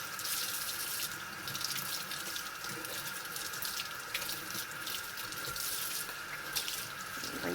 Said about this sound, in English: I am going to rinse it off a little bit here.